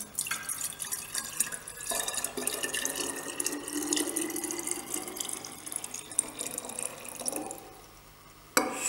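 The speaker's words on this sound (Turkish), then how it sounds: "Öncelikle her iki erlenimize de 500'er mililitre su koyuyoruz. Normal bildiğimiz musluk suyu olacak." Tap water pours into an Erlenmeyer flask in a steady splashing stream with a rising filling tone, running for several seconds before cutting off near the end.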